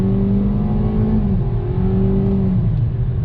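A 2021 Kia Seltos S accelerating under throttle, heard from inside the cabin as a loud, steady engine drone that climbs in pitch, dips briefly, then rises again, with no talking.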